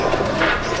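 A pigeon in a loft of Andhra and Madrasi pigeons gives a short, close coo, one soft throaty call lasting under a second.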